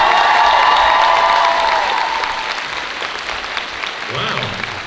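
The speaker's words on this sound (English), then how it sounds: "maybe a round of applause for Tom Ellis to show the love" A large crowd at a comic con Q&A in Belgium applauds and cheers, loud at first and slowly fading, with a whistle and voices mixed into the clapping.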